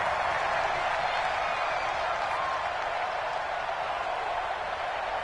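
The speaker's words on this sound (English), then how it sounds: "The crowd here in the Dome making things difficult." Stadium crowd roaring inside a dome during a video game football match, a dense, even wash of cheering and applause-like noise held steady throughout.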